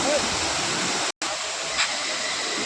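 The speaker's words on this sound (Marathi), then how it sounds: "पाणी बघा किती उंचावरून कोसळत आहे इथे धबधब्याचं" Loud, continuous rushing water roars without letup as the Savatsada waterfall near Chiplun pours from a height with reduced flow, broken only by a brief cut of silence.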